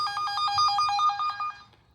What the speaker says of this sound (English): that is the sound it makes when it is sensing the wire.